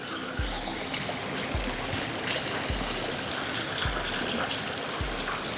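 Clear Cauvery water runs steadily along a farm border channel, a soft continuous trickle and gush with faint regular low thumps beneath; no one speaks.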